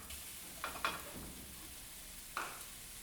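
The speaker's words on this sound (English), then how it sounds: "So now to the pan, we're going to add in our diced onions" Diced onions hitting a pan with golden, crispy tofu, a quiet sizzle punctuated by a few soft stirring scrapes and clacks, close and without speech.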